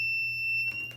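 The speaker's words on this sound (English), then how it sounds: "the light comes in, and the alarm goes off" An E-Blox electronic alarm module sounds a steady, high, piercing electronic tone that goes off when light hits its sensor. The tone holds constant for most of a second, then is broken by brief clicks and shuffling near the end.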